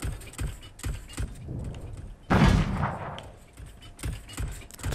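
A single loud, booming shotgun blast in the VR video game Code51: Mecha Arena cuts through a busy mix of clicks and clatter, then its echo trails off.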